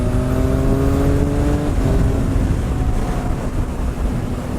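Loud revving of a 2019 Triumph Speed Triple RS motorcycle, its engine pitch climbing and then dropping while riding, with heavy wind noise over a close, rough engine roar.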